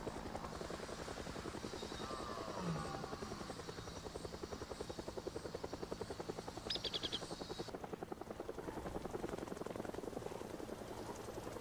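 Helicopter in the video game Project Zomboid, a steady rapid rotor chop and engine drone running throughout at low level, with a brief higher tonal whine partway through and no speech.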